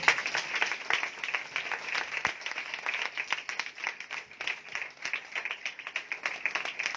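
A church congregation at a Sunday worship meeting breaks into sustained, enthusiastic applause, a dense steady clatter of many hands clapping that runs the full length without speech.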